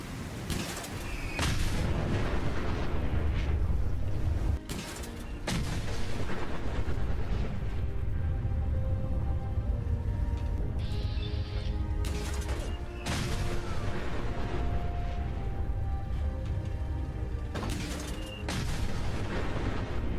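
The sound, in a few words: teddy bear explosion from modded weapon in Fallout 4 video game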